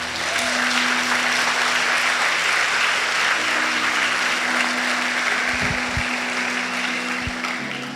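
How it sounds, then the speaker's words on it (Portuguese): A church congregation gives Jesus a sustained round of applause, a dense continuous wash of many hands clapping that holds steady for several seconds, with a low hum beneath it. "Pode dar uma salva de palmas para Jesus, amado?"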